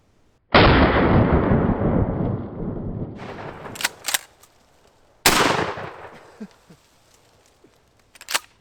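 A shotgun fires 3-inch shells at pumpkins outdoors, two loud sharp blasts a few seconds apart, each followed by a long decaying echo, with metallic clicks and handling noises of the action between and after the shots.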